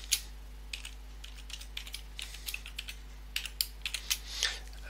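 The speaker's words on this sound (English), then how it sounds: "Put the password in, press enter." Soft key presses on a computer keyboard while entering a password, a scattered series of light clicks in irregular bursts against a quiet background hum.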